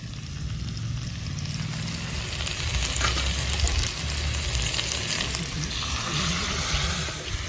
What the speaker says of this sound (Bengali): এটাকে একটু ভালো মতো কষতে হবে